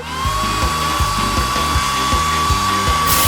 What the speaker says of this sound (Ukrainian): Вентилятор. Давайте увімкнемо його.